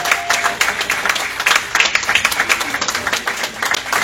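A church congregation breaks into sustained applause and clapping, dense and fairly close, with crowd voices mixed in throughout.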